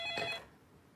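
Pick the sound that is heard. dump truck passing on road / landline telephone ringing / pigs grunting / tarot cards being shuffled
landline telephone ringing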